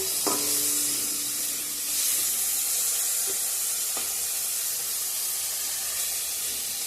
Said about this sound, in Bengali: চিংড়ি মাছটা একটু গরম করে নিচ্ছি বন্ধুরা